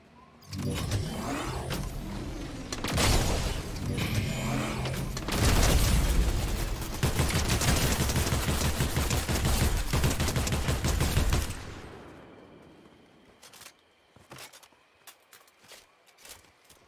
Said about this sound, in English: I'm gonna blast these guys with this cannon.